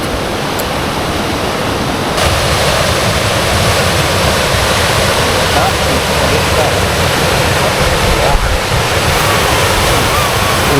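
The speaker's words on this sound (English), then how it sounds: "You sit underneath the waterfall there." A mountain waterfall in Glen Etive, Scotland, roars steadily up close, a dense, constant wash of falling water filling the whole clip without pause.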